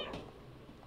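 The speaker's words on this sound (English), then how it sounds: "I think that was when I kept spamming the meow button." Cat meowing in the video game Stray, a single short meow at the start over faint background ambience.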